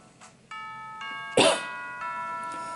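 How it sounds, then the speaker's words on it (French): School bells in the video game Pokémon Ultra Sun sound as a series of clear electronic chime tones stepping through a short melody, with a brief noisy burst partway through, played quietly without talk. "c'est les cloches de l'école"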